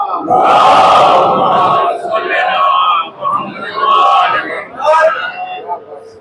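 A large crowd at a Muharram majlis in an imambargah in Greater Noida shouts religious slogans in unison, loud and close, in several surging bursts with brief pauses between them.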